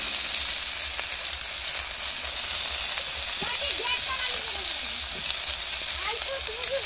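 Fish sizzles steadily in a hot pan for a thin fish curry, a constant close hiss of frying oil, with a voice talking over it at times.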